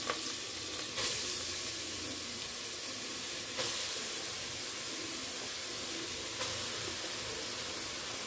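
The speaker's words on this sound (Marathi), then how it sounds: "आता हा तूप टाकल्यानंतर जे गाजर किसून ठेवलेला मी त्याच्यात टाकणार" Grated carrots sizzle and fry steadily in hot ghee for carrot halwa, a continuous close hiss with a few brief louder bursts as they are moved in the pan.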